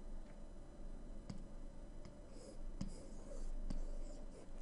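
Pen writing numbers on paper, faint scratchy strokes with a few light taps, quiet and close.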